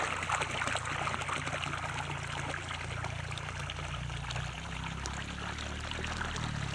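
Water flows steadily into a pool at a mountaintop resort in Bukidnon, a constant rushing and splashing pour that is close and continuous throughout.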